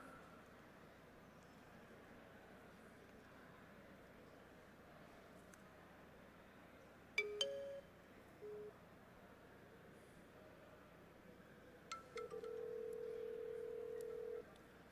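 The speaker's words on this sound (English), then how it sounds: "So he's going to dial my number." Phone number being dialed for a call routed through Odoo's customer service system: a short burst of dialing tones mid-clip, then a steady ringback-like tone near the end, quiet over a faint background hiss.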